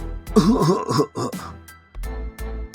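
Repeated throaty coughs and throat-clearing from one person, voiced bursts in a cluster during the first second and a half, then a quieter, lower rasp trailing after.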